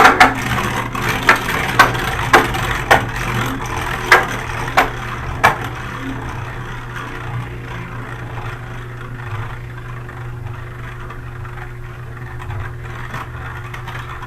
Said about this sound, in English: we're going to drop it again straight in the center and see what happens